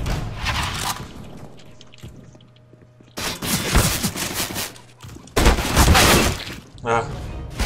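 Bursts of rapid automatic gunfire from the video game CS:GO crackle in two loud volleys with a quieter stretch between them, close and harsh, with an initial burst fading out before the later ones.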